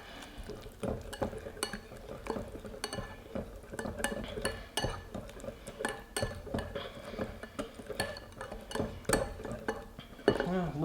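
A utensil stirs shrimp and salmon with honey in a bowl, giving repeated light clinks and scrapes against the dish in an uneven rhythm, fairly quiet and close.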